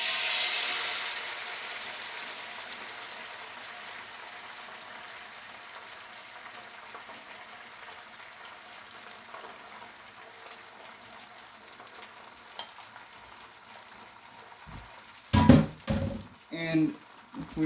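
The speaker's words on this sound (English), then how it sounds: "tool to help me put those eggs into that skillet" Eggs frying in a skillet for an omelet give off a steady, soft sizzling hiss that slowly fades, followed by a few sharp clunks near the end.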